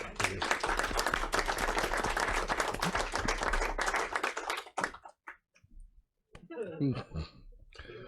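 Applause at a Kankakee County Board meeting: dense, steady clapping from the room for several seconds, then it thins out into scattered claps and a voice speaking.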